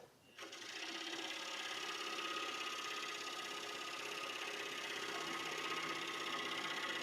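A vacuum runs steadily indoors, switching on after a brief quiet start and then holding a continuous, even whirring drone with a faint buzzing hum throughout.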